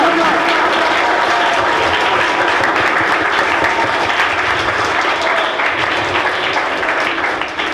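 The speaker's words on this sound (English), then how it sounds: "Now let's round of applause" Loud, dense applause from a school program audience fills the whole stretch, steady and sustained with many hands clapping close together.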